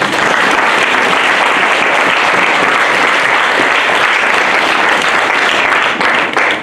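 A church congregation breaks into steady, loud applause and cheering during a worship service, the dense clapping filling the room without a break from start to finish.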